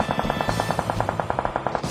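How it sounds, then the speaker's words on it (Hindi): Rapid automatic gunfire from a shooting video game, a steady loud rattle of evenly spaced shots running throughout, close and without voices. "ये लोग तो गोलियां चलानी रोक ही नहीं रहे।"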